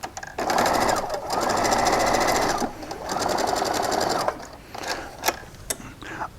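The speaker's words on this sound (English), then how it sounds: "Let me get this stitched down for you." Sewing machine stitching quilt fabric, running in two steady rattling bursts of a few seconds each, separated by short pauses, then slower intermittent stitches and clicks at the end.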